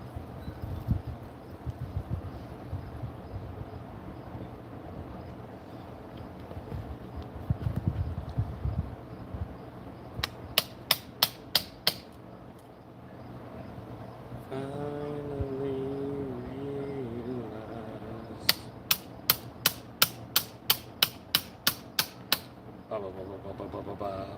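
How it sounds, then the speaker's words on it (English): Hammer striking a steel chisel to knock waste out of wood during hand-tool woodworking, heard as two bursts of rapid sharp taps, about eight blows each, close by over low background noise and shuffling. "Get it started with the chisel, go in with the hammer, kind of knock it out."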